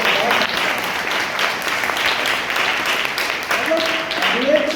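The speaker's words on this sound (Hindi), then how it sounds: "जोरदार तालियां हैं।" An audience at a training workshop breaks into loud, dense applause, sustained hand clapping filling the room near and steady throughout, with a voice briefly audible toward the end.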